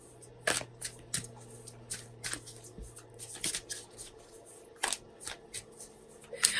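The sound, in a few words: shuffling Sacred Traveler Oracle cards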